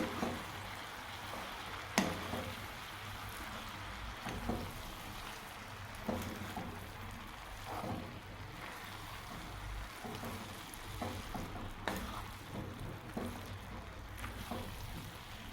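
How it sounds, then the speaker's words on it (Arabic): A spoon stirs a rice and cauliflower mixture in a pot, giving a soft, steady wet scraping and shuffling, a few light knocks against the pot and no talking. "ونبقى نخلط فيه تاني هكا بالعقل"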